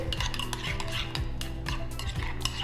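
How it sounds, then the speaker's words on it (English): A tuna patty mixture with fresh lemon juice gets a quick stir, utensil scraping and clinking against a bowl in a steady, close run of soft knocks and scrapes. "So I'm just giving this a quick stir."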